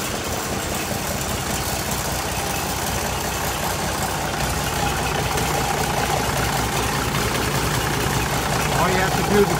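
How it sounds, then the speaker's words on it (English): An Oliver 1800C tractor engine idles close by, a steady low diesel rumble with an even knocking pulse that runs without a break. "Okay, Oliver 1800C. You got a tractor that runs."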